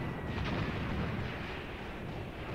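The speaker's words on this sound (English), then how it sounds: "Okay, my mortars are hitting." Mortar rounds striking in Graviteam Tactics, a Kharkov 1942 wartime battle, with a dense, steady rumble of distant explosions and gunfire blending into one continuous roar, no talk.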